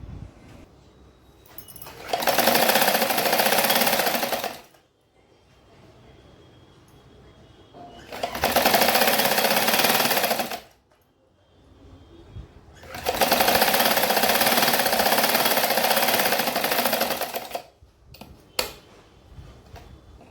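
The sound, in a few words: sewing machine stitching fabric pieces for a roti organiser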